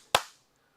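One sharp hand clap, near and loud, of the kind used to trigger a Clapper. It dies off quickly into quiet.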